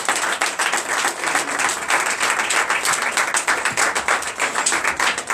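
Church congregation at a Sunday worship and teaching service applauding, a sustained crowd of hands clapping with a fast, even rhythm and no voices on top.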